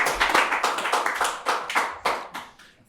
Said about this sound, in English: can we give ourselves another resounding round of applause?